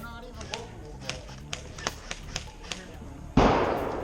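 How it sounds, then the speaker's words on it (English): An airsoft air cannon fires once with a loud, sudden broadband bang near the end, its blast decaying slowly, after a run of sharp scattered snaps and pops from gameplay during a defensive wave. "That bang you just heard is not a grenade, it's an air cannon."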